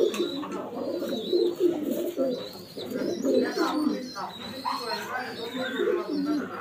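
Several pigeons coo in low, throaty rolling calls, close and repeating throughout, at a racing pigeon loft, with a few faint chirps behind them.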